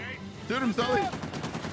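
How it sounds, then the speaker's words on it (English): Gunfire crackles in the video game Uncharted: Legacy of Thieves, a short burst of shots mixed with a character's shouted voice, followed by fainter rapid pops. "Shoot him, Sully."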